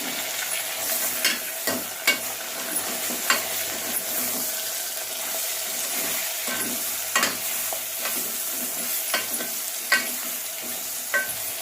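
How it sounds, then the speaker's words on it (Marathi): Steady sizzling of chicken frying in hot oil in a pressure cooker, with occasional stirring clanks and scrapes throughout; no voices. "चिकन आपलं थोडंसं फ्राय झालेलं आहे।"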